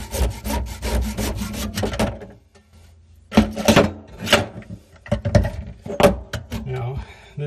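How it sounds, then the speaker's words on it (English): A sharp PVC saw cuts through PVC drain pipe with quick, rasping back-and-forth strokes, close by, pausing briefly in the middle before resuming, with a voice talking over parts of it. "this is specifically a PVC saw, so it actually makes really quick work of a PVC pipe"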